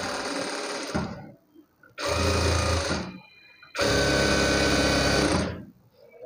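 Sewing machine stitching a blouse, three bursts of fast, steady mechanical whirring with brief gaps between them, near and clear with no voices.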